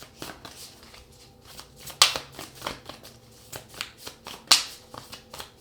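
Tarot cards being shuffled and handled at close range, soft papery riffles and taps with two sharper, louder snaps of cards, quiet and steady with no talking.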